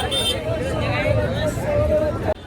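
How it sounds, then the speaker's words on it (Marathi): Steady crowd babble fills a busy street between Dadar and Thane, a dense murmur of many voices with passing traffic noise underneath. "इथं गर्दी बघा."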